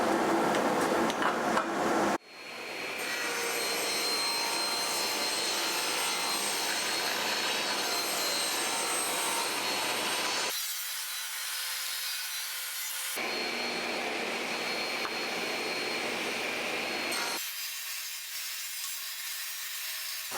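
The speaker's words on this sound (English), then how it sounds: "So we'll go rip down some strips and get this extension installed." A power saw rips wood offcuts into strips, its loud, steady whine running in long continuous passes broken by a couple of short pauses between cuts.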